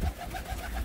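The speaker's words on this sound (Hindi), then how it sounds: "हाई फ्लायर कबूतर, गोल्डन कबूतर है सारे" Golden high flyer pigeons cooing, soft low rhythmic coos repeating several times in a short, steady, close-up stretch with no talking.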